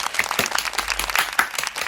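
A small group clapping indoors, quick uneven hand claps close to the microphone, moderately loud with a few sharper individual claps standing out.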